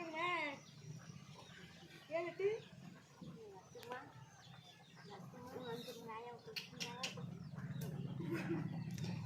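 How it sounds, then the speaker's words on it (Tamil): Chickens cluck and call repeatedly as they settle to roost in the evening, over a low rumbling background, with scattered bird sounds and occasional voices nearby. "இப்போ தான் கோழி எல்லாமே அடையிற டைம் சாயங்காலம்"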